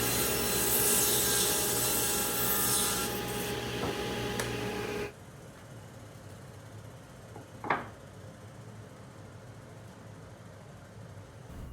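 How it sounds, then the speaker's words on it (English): A saw cuts wooden boards and scrap pieces to length for a chair seat, giving a loud, steady rasping buzz that stops abruptly midway, followed by quieter workshop ambience and a single sharp knock. "I'm cutting out any board or scraps I have left at 18 inches"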